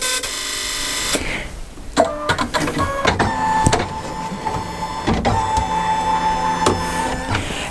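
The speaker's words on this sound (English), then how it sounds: "it's going to go through its normal opening sequence where it's going to calibrate itself and make sure everything is good" An embroidery machine runs its startup calibration, giving off a string of motorized whirs, clicks and short mechanical movements at close range, with brief pauses between steady mechanical passages and no talking.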